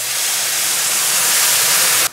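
White wine poured into a pan of toasting mushroom risotto rice gives a loud, steady sizzling hiss that fills the whole stretch and then cuts off abruptly at the end.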